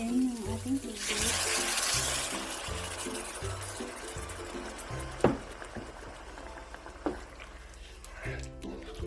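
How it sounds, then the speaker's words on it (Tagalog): Water is poured into a pot of Indian and Filipino style pork curry, a close splashing rush that starts after a second and then settles into a softer trickle over a steady low background. "Ilalagay na rin natin yung ating tubig."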